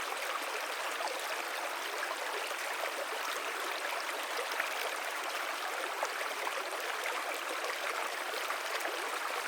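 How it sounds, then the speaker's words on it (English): Flowing stream on the Current River, a steady close rush and trickle of water with no voices. "We sit down and enjoy the melody of the stream"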